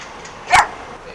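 One short, loud bark from a big dog on a Seattle city street, heard once over quiet background.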